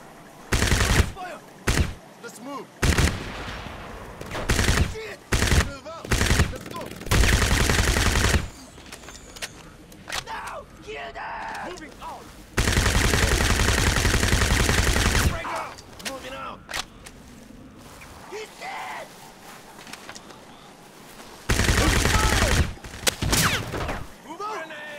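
Repeated bursts of automatic gunfire from the Crysis video game, loud volleys of several seconds each separated by quieter gaps and single shots, with talking in between.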